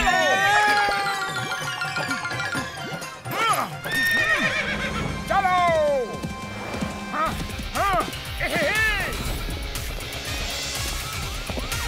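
A cartoon horse whinnies loudly several times while its hooves clip-clop in a brisk rhythm, mixed with lively comic sound effects and voices talking over it.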